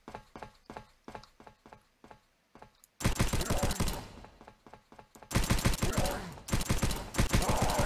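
Gunfire from a weapon in the video game Subterrain, opening as sparse, evenly spaced clicking shots, then breaking into loud, dense bursts of rapid fire that stop and restart several times.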